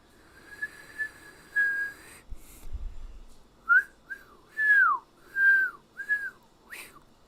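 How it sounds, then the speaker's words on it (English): A person whistles alone, first a long steady tone with a brief break, then after a short low thump a run of five or six short swooping notes, near and fairly clear. "Holmes whistled."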